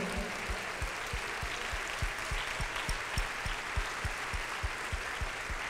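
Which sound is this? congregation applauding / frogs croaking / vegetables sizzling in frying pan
congregation applauding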